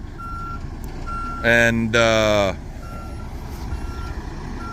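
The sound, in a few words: gravel truck with side dump trailer backing up to dump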